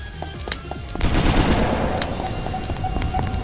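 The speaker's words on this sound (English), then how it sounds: "using the grenade launcher, I mean, it's a good option if you've got enough grenades" Weapons fire in a shooter video game, including a grenade launcher, with a dense burst of rapid gunshots and blasts that swells sharply about a second in and holds loud and continuous, with no talking.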